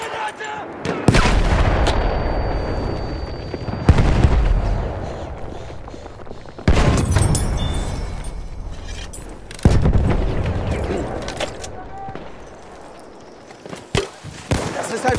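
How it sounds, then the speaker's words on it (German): Enemy machine gun fire in Battlefield 1 mixes with heavy booms and explosions in a loud, continuous battle din, with several big impacts spaced through the scene and soldiers shouting in between. "Feindliches Maschinengewehr!"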